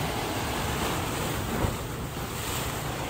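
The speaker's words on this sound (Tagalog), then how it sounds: "Lumalakas na ngayon ang alon" Dense, continuous rush of ocean waves growing stronger as they break at the White Cliff on Tung Lung Chau island, mixed with gusty wind noise, loud and close, no voices.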